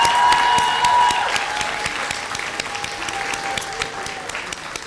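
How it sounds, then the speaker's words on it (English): A room full of people claps at a Founder's Day convocation, a loud burst of applause that gradually thins and softens, with a faint tonal whine running beneath the clapping. "A round of applause again for everyone"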